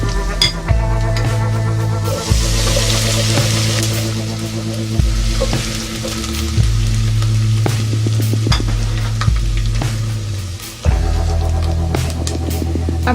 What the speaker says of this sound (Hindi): अब अदरक और लहसुन का पेस्ट डालेंगे।